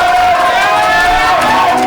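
A television studio crowd cheers and whoops loudly for a performer named King Ja being introduced on a French-language variety show, a steady roar of voices with shouts and whistles and no pause throughout.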